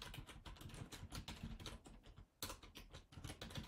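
Someone types a command on a computer keyboard, giving a quick, close patter of key clicks with one brief pause partway through.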